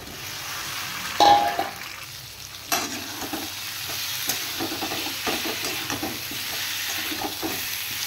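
Potato and cauliflower added to a spiced pan with tomato, giving a loud clattering drop followed by steady frying sizzle and repeated spoon scrapes as the vegetables are stirred, close up with no talking.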